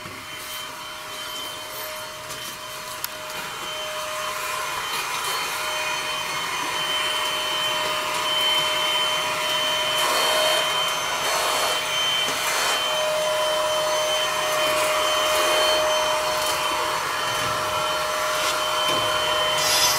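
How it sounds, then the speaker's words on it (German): A vacuum cleaner runs steadily throughout, a continuous broadband whine with a high tonal hum, close and fairly loud, gradually growing slightly stronger without pauses. "Da läuft ein Staubsauger oder irgendwas."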